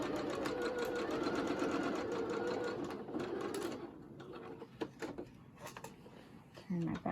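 A sewing machine back-stitches cotton fabric for a pocket face mask. Its fast, steady motor whir runs for several seconds, then slows and stops, followed by a few small clicks and handling sounds. Someone talks over part of it.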